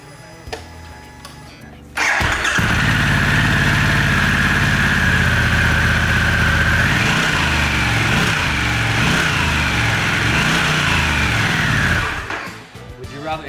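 Harley-Davidson Pan America fitted with a Sawicki Speed slip-on exhaust starts up and runs at a steady, loud idle for about ten seconds with small throttle swells, then cuts off.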